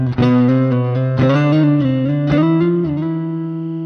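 Electric guitar plays a slow octave lick, a few sustained, gliding notes with slides and grace notes, close and clean with light effects, no voices.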